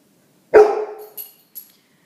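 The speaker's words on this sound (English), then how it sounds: "Oops, I got distracted by that barking there." A pet dog in a home barks once loudly and nearby, followed by two short fainter yaps, with silence in between.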